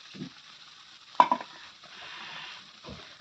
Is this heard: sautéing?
yes